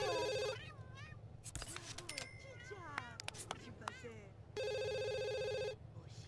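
Telephone ringing in The Sims 2 video game, a bright electronic warbling ring heard twice, once at the start and again near the end, under and between chirpy in-game character babble and clicks, over a low steady hum.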